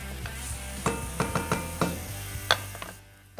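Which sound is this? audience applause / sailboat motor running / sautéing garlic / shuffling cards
sautéing garlic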